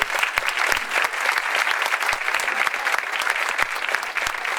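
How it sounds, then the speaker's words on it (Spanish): A crowd at an early-childhood school event applauds continuously, dense clapping holding steady throughout without a pause. "les quiero dar un aplauso a ellas"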